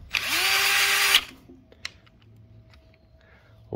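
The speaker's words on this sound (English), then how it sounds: "And then I like to use my power tool." A power drill drives a steel bolt into a pedal kit bracket on a SUR-RON electric bike, one loud whirring burst of about a second that spins down, followed by light clicks and handling noises nearby.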